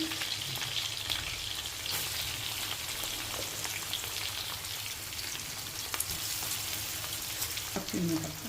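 Rice is stirred into oil in a chicken biryani pot, a continuous moderate sizzle with scrape and stir sounds throughout and a faint utensil knock near the end.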